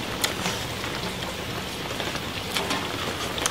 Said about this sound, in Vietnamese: Mà trời mưa nè.